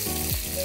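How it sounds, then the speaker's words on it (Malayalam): Pieces of fish, chosen free of bones, fry in hot coconut oil with a steady, close sizzle and a brief soft stir or splash midway. "നമ്മുടെ വെളിച്ചെണ്ണ നല്ലോണം ചൂടായതുകൊണ്ട് നമുക്ക് കഷ്ണങ്ങൾ ഓരോന്നായിട്ട് വറുക്കാനിടാം"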